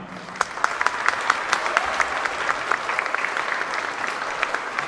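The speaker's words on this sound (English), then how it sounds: "A nice round of applause for them." Audience applause at a district string concert, steady sustained clapping from a full hall with sharp individual claps standing out, lasting throughout.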